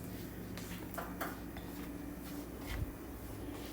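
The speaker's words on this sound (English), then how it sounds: "let's just get ready and cut up this lettuce" A knife cuts up lettuce for homemade hamburgers, giving a few soft, irregular chopping taps against a quiet kitchen background.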